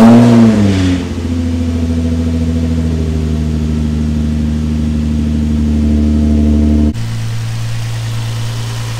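Nissan 350Z engine idling loudly close up with its exhaust aimed nearby, a brief rev at the start settling into a steady deep drone that cuts off abruptly near the end, leaving quieter background.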